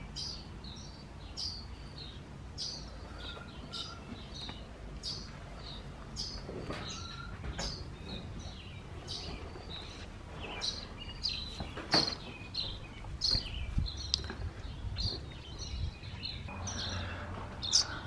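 Baby birds chirp from nests hidden inside a wall of an abandoned ghost town building, a steady stream of thin, high repeated peeps spread across the whole stretch, fairly faint against a quiet room background.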